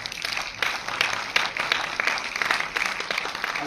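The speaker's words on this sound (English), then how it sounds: "a big round of applause for Vaibhav" An audience at a film screening and felicitation event applauds, with sustained, fairly full clapping from a crowd, steady with slight swells throughout.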